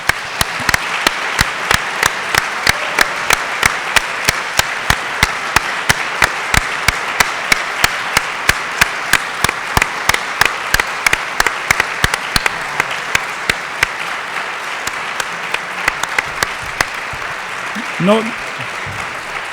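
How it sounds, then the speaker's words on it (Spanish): An audience applauding at a magazine anniversary event in a hall, a steady run of dense clapping with sharp regular claps throughout, loud and sustained, and a brief spoken word near the end. "yo pediría un aplauso para María Amparo"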